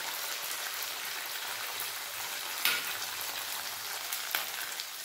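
Tomato, ginger and green chilli fry in a pan for a vegetarian ridge gourd dish, a steady close hiss of sizzling oil that runs unbroken, with a couple of brief sharper pops.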